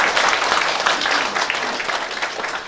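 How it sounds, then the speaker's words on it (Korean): An audience applauds at a Gyeongbuk peace ambassadors' council ceremony: dense, steady clapping fills the whole stretch at an even, fairly loud level with no voices standing out. "약속을 큰 박수로 함께해 주시기 바랍니다"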